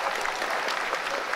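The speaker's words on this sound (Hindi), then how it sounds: "आप सुन पा रहे होते तालियों की गड़गड़ाहट के साथ" Dense applause from scientists in a mission control room during a lunar landing attempt, a loud continuous patter of many hands clapping with no pauses.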